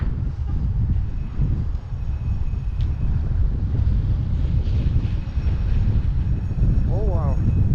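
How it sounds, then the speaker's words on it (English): Strong southwesterly wind roars continuously into the microphone during a snow blizzard in London, with a brief voice near the end. "There is certainly a southern westerly wind coming at us."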